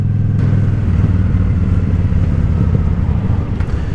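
A Honda Shadow motorcycle engine rumbles low and steady while riding, a loud, close, throbbing drone with wind noise and slight shifts in revs, with no speech.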